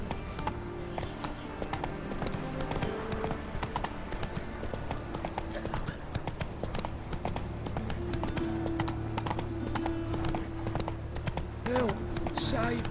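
Horse hooves galloping in the video game The Witcher 3, a steady rapid clip-clop of hooves heard faintly, with game voices talking over it.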